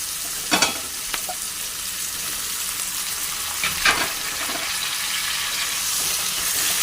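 Chopped capsicum frying lightly in a pan for chilli paneer, a steady close hiss of sizzling oil with a few brief stirring scrapes.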